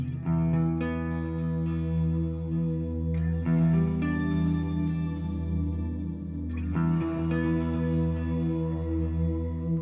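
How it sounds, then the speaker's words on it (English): Guitar chords through delay and reverb on a Mooer Ocean Machine pedal ring out with trailing echoes and a spacious reverb tail, the notes blending into a smooth, continuous swell. "we'll add a bit of reverb after those."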